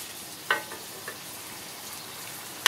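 Diced tomatoes frying in a garlic butter shrimp pan, a soft continuous sizzle broken by a few sharp utensil clicks against the pan.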